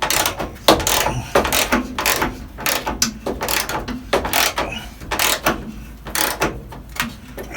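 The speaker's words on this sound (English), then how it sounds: "All right, I got my little ratchet here." A small hand ratchet clicks through a series of quick strokes, each burst a dense run of close, fairly loud metallic ticks separated by short pauses as the handle swings back and forth.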